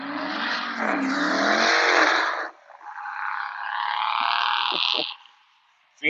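Cars speed past outdoors in Phoenix, loud and close, with a sustained roaring engine sweep that shifts pitch midway, then fades before a brief burst at the very end.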